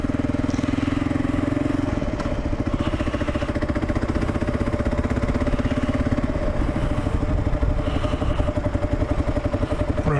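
KLR motorcycle engine while riding, a steady close single-cylinder thumping drone with a quick change in tone as it shifts up through the gears, with wind noise.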